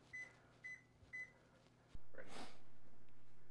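A kitchen timer goes off after a bagel batch bakes, three short high electronic beeps in a quick even rhythm, followed by a sudden steady hum, like an oven fan or door opening, with no talking.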